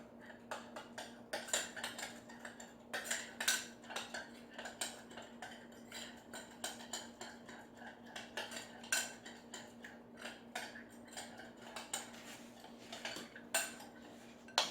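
A utensil stirs a sour orange juice sauce mixture for coconut snapper, giving a steady run of light metallic clinks and scrapes against the bowl, alone and fairly quiet throughout.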